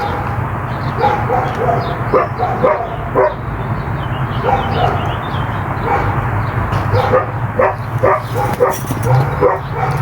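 Several small dogs bark and yip repeatedly in quick, irregular bursts at close range near a front porch, loud and continuous, with a little talk mixed in.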